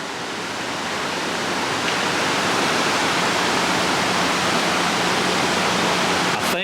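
Steady, loud roar of a waterfall heard up close, a dense unbroken rush of falling water; a kayaker is attempting to paddle up it, though nothing separate from the water stands out.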